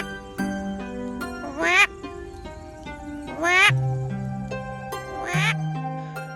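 A man imitates bird calls with his mouth, producing a series of clear whistled and warbling tones with rising sweeps, repeated in three distinct bursts over a sustained hum.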